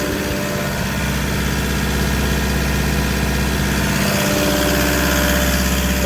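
A heavy Mitsubishi Fuso Canter diesel truck engine running steadily at 2000 rpm with a blocked diesel particulate filter, a loud, rumbling drone with constant mechanical vibration.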